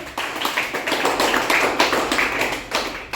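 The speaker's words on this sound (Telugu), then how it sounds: "క్లాప్స్ కొట్టండి అందరూ" A classroom of children clapping together for a classmate's correct answer, a quick busy patter of many small hands, close and loud with no talk over it.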